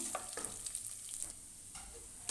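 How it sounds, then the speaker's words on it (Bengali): Moong dal stirred and dry-frying in a pan over low heat, giving a faint, steady sizzle broken by soft scraping strokes of the spoon, with no voices. "এরকমভাবে হালকাভাবে নাড়াচাড়া করে ভেজে নেব।"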